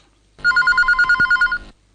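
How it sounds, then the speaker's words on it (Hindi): A telephone rings once in a radio studio for an incoming listener call, a rapid trilling burst of bell-like pulses, loud and close, then stops. "तो कार्यक्रम में शामिल करते हैं पहला फोन कॉल।"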